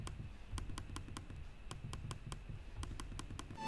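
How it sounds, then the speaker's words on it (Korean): Quick, sharp clicks of a Gigabyte AERO 15 OLED XB laptop trackpad tap out in irregular bursts close by, crisp plastic clicking with brief pauses between runs. "트랙패드의 클릭 소리가 약간 크긴 해요"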